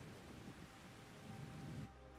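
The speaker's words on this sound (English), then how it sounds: "Oh, and there's rain." Steady broadband rain hiss in the video game ARK: Survival Ascended, a continuous wash of falling water that holds evenly and then cuts off abruptly near the end, with no voices.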